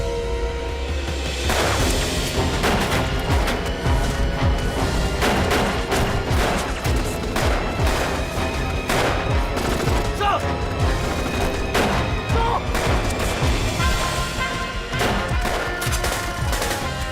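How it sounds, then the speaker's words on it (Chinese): Dense, continuous gunfire from a war-movie battle scene set during the anti-Japanese war, with overlapping bursts and scattered crashes filling the whole stretch at steady, loud volume. "在你感觉最好的时候开枪。"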